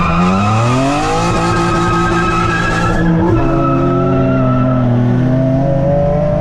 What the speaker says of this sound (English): just burning the tire just like that and just hitting the red line